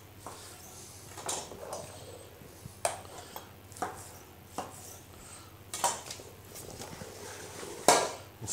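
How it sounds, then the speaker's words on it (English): Hearts for haggis are sliced on a cutting board, giving sharp, separate knife-on-board knocks at an uneven pace, close up and quiet, with faint kitchen clatter between the strokes. "Then just get your hearts cut through, just like that."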